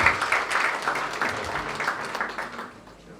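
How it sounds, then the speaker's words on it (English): Audience applause at a formal naval education ceremony, a dense steady roll of many hands clapping that fills the room and gradually fades toward the end. "Round of applause for him."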